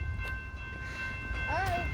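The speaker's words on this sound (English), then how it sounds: "Metro train, upbound." Metro commuter train at Clarendon Hills station, a steady rumbling passage with sustained tonal whine and a brief bending tone near the end, with voices faintly present.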